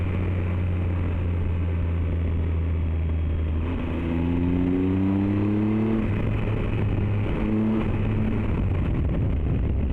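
A Triumph Tiger 1200 XRT motorcycle pulls away in a long first gear, the engine note climbing steadily in pitch, easing briefly at a shift point, then rising again, loud and close over wind rush.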